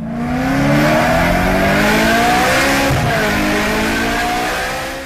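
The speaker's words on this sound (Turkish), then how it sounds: "Tayvan'da bir genç yanına aldığı kız arkadaşına otomobiliyle hız gösterisi yapıyor" A car is driven recklessly in a speed show on a busy road in Taiwan, its engine revving hard and climbing through rising, loud acceleration sweeps close by with some tire noise.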